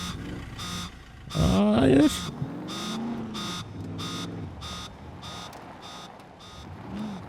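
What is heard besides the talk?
airdrop crate alarm beeping in the video game Scum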